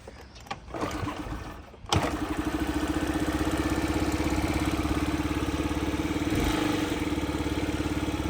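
A Honda Dio scooter fitted with a Chinese carburetor catches after a few seconds of fumbling noise, then settles into a steady, close, buzzing idle that holds evenly to the end.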